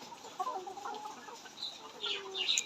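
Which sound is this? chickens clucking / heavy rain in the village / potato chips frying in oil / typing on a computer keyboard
chickens clucking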